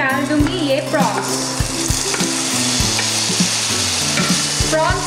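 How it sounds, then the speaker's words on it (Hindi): Prawns drop into hot mustard oil in a kadai and sizzle loudly up close, with sharp stirring knocks against the pan recurring over the constant frying hiss. "ऑयल अच्छे से गर्म हो गया है, अब मैं इसमें डाल दूंगी ये प्रॉन्स।"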